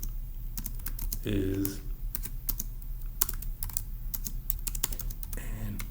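Computer keyboard typing in rapid bursts of sharp clicks, some loud and close, with a short spoken word in the middle.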